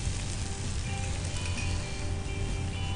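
Chilli powder and coriander powder frying in hot oil in a pan, a steady, close, dense sizzle that holds at an even level throughout with no talk.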